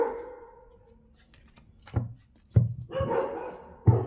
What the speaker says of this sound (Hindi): इतना ये भौंक रहे हैं।